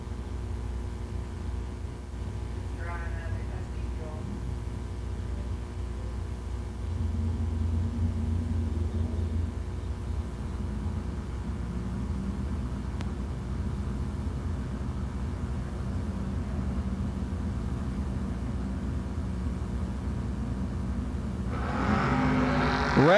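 Drag race run between a Camaro and a Chevy II at the Six Shooter Showdown, heard as a steady low engine rumble with a swelling roar midway and a louder burst near the end.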